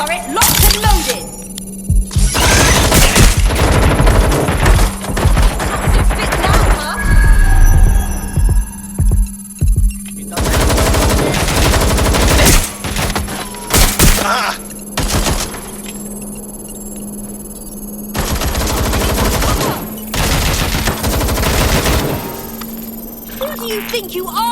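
A spider turret lets off bursts of rapid automatic gunfire in a video game, loud clattering volleys alternating with short pauses over a steady electronic hum, with shouting voices between the bursts.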